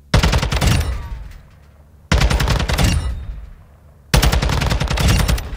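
Bursts of rapid automatic gunfire in Warzone 2.0, three loud close sustained volleys separated by brief pauses with fading tails.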